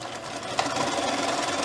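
A sewing machine runs steadily, stitching fabric pieces for a turtle stuffie, a continuous close mechanical whirr with one small knock partway through.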